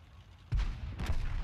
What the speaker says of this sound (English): I almost eat an artillery shell to the face.